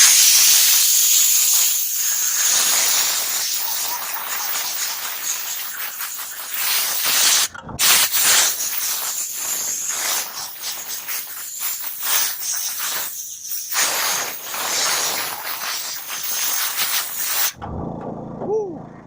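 Loud, continuous hissing of steam spraying from a steam cleaner nozzle onto a child car seat, with a brief cutoff midway and an abrupt stop near the end.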